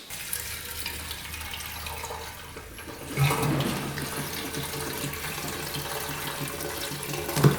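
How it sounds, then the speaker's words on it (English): Gasoline pours steadily into the fuel tank of a rare motorcycle bought at auction, a continuous close liquid rush that starts abruptly partway through and runs on without any voices. "let's get some gas in it"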